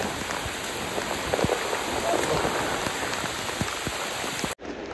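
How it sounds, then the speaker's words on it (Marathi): Heavy rain falls steadily in a forest along the Savlya Ghat trail in the Sahyadri hills, a dense, loud, continuous hiss with scattered close drops, cutting off abruptly just before the end. "खूप प्रचंड पाऊस चालू झालेला आहे"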